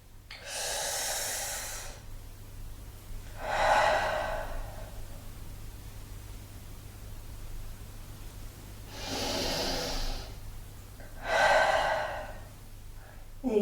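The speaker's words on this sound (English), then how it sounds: "you can choose to switch between breathing in through your nose or through your mouth." Deep yoga breaths drawn in and let out through nose or mouth, four long breathy rushes in slow rhythm, near and fairly soft over a faint low hum, no voices.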